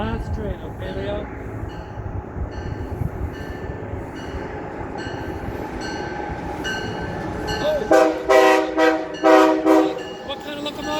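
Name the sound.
Amtrak HHP8 electric locomotive train passing at Halethorpe station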